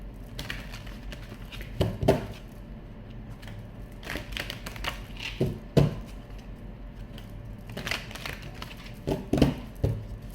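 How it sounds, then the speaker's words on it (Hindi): Tarot cards are shuffled by hand in irregular bursts of soft tapping and riffling, close and fairly quiet, with gaps between each round. "कार्ड्स करती हूँ शफल, रीडिंग करते हैं शुरू"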